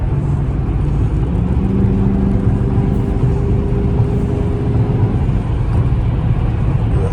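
A Chrysler 300C engine pulls hard under throttle, a loud continuous roar with a rising tone mid-clip that eases back toward the end, close up and alone without talk.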